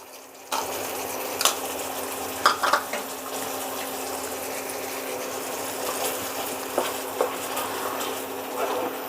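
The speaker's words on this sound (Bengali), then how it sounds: "এবার আমি ভালো করে কষিয়ে নেব।" Spice paste with ground poppy seed and cashew sizzles in a pan for Kashmiri dum aloo, a constant close frying hiss broken by scattered clinks and scrapes of a spoon against the metal.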